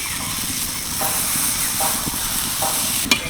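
A paste of drumstick leaves and thankuni leaves fries in a pan with a steady, close sizzle. Soft scraping stirs recur throughout, and one sharp utensil clink comes near the end.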